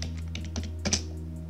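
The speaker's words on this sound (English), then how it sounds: "To do that, type in sudo apt install" Close, quiet tapping on a computer keyboard as a terminal command is entered, a short run of soft irregular keystrokes over a faint steady hum.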